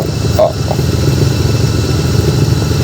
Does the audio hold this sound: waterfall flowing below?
no